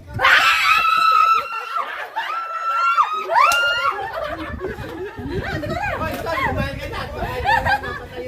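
Loud, frightened screams at a street food bottle flip challenge, several shrieks in the first few seconds, then excited chatter and laughter from a small group close by.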